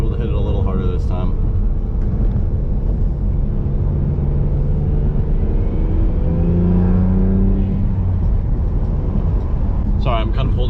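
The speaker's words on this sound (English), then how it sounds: "Might be able to hit it a little harder this time." Chrysler Conquest car engine accelerating hard, a steady loud rumbling roar with rising revs held for about ten seconds, close to the microphone, with a voice briefly heard over it.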